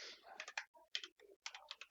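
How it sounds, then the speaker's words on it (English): Quick, crisp keystrokes on a computer keyboard come in short clustered bursts separated by brief pauses, close and fairly quiet, with a voice speaking faintly between them. "we just type in yes, we just type it in"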